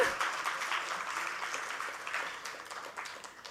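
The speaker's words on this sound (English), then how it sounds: "Let's have a huge round of applause." Audience at the Almus Rupee Money Conference 2022 applauds steadily, a dense spread of clapping that holds for a few seconds and slowly fades toward the end.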